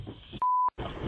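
A mobile phone sounds a single steady electronic notification beep, loud and clean, cutting through a low background murmur.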